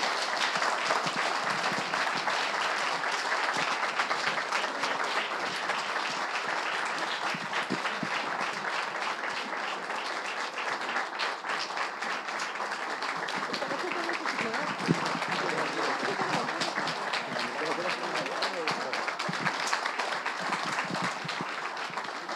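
Sustained applause from an audience welcoming guests at a church pastor's farewell ceremony, steady dense clapping throughout, with some voices mixed in.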